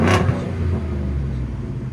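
A deep, rumbling 2019 Ford F-150 FX4 5.0L V8 truck exhaust with a cutout revs briefly, then settles into a low, throaty idle nearby.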